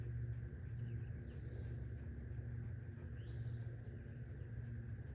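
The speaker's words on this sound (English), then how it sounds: "Sounds airplane-y." Airplane passing overhead at a distance outdoors, heard as a steady low rumble that stays constant throughout, with faint insect-like chirps and high hiss on top and no talking.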